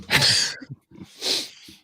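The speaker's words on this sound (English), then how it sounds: "COVID sneeze there." A single sharp sneeze bursts out, followed by a softer second exhale-like burst, close and fairly loud with brief pauses between.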